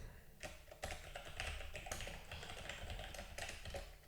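Rapid, uneven keystrokes clatter on a computer keyboard in a quiet room, a close, continuous run of crisp taps with occasional louder presses.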